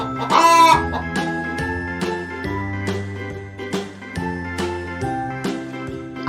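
A hen clucks and crows in cheerful cartoon style over a tinkling, jingling musical backing, loud and close with bright repeated chimes.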